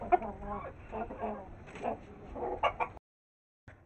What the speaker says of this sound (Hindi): हमारी ऑस्ट्रेलियन मुर्गी हैं ना, सारी लड़ाकी हैं।